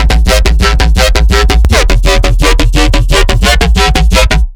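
A heavy talking neuro bass synthesized in Serum and post-processed with OTT, EQ, saturation and a maximizer: loud, rapid stuttering pulses with shifting vowel-like growls, a dense rhythmic pattern lasting about four and a half seconds, no speech.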